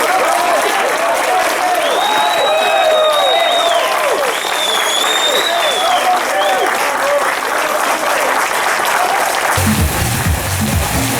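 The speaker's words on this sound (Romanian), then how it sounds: "Aplauze pentru organizatorii noștri, pentru fabuloși arbitri." A crowd applauds at a national arm wrestling championship in Radauti, with dense sustained clapping throughout and an announcer's amplified voice ringing over it.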